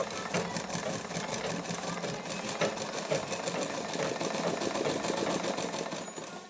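A sewing machine runs steadily, stitching cloth for a latkan tassel design, with a close, continuous rattling whir that holds at an even pace throughout.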